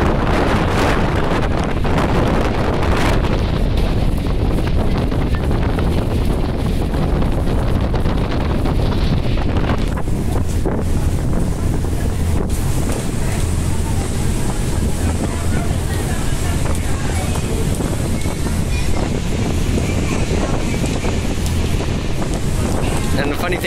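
Heavy wind buffets the microphone aboard an Auckland ferry, a loud continuous roaring rumble with the boat's engine drone and water beneath, no talking.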